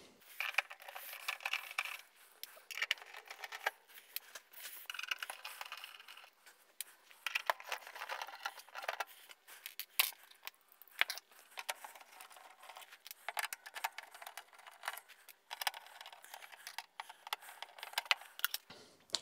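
Small metal screws, Allen and Phillips head, being worked out of an Apple eMac case: a steady run of light metallic clicks, ticks and clinks, close up and fairly quiet, with no talking.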